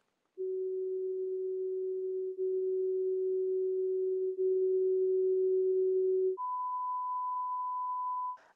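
A pure, steady low tone holds for about six seconds, then switches abruptly to a higher pure tone, clean and continuous with no other sound.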